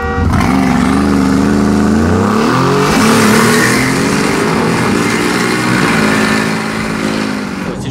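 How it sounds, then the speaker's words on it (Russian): A Mercedes G-Class launches off the line in a drag race start with no launch control, its engine roaring loud and close and pitching up through the revs before settling into a sustained heavy drone. "Гелик стартанул очень хорошо"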